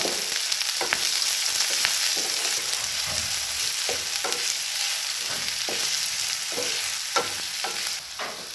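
Chopped onion and green chili fry in a pan with a steady, bright sizzle, broken by repeated scraping stirs of a spatula at a regular pace. No one speaks.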